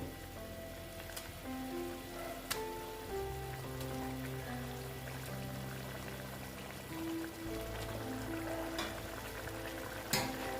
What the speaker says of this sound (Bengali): দেখো আমার ঝোলটা ফুটে উঠেছে এবার আমি একে একে মাছগুলো দিয়ে দেবো